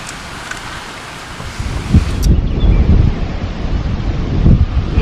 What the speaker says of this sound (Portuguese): Infelizmente está muito vento